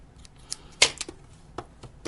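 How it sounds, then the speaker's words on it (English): Small scissors snip thread edges on a sewn doll's dress, a few quick close cuts, one crisper and louder than the rest, with no talking. "just cut the edges of the thread"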